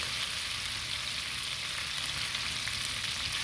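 Prawns and sambal stir-frying in a pan, giving a steady, loud, close sizzle and crackle that runs continuously with no break.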